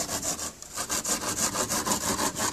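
Rhythmic back-and-forth sanding of aircrete dome blocks, quick close rasping strokes repeating steadily with one brief pause near the start.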